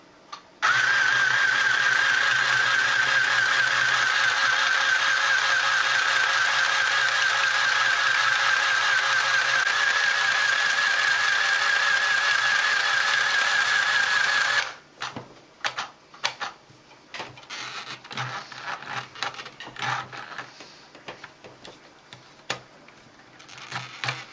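A sewing machine, run by foot pedal, stitches fabric for bed cushions steadily at high speed for about fifteen seconds, then stops, followed by scattered soft handling clicks and rustles nearby.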